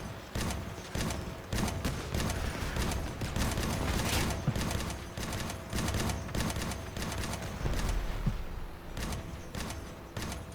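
Rapid bursts of gunfire from the Crossout vehicle combat game, hovercraft battle on a big map, sharp repeated shots in fast volleys with brief gaps, fairly loud and steady throughout.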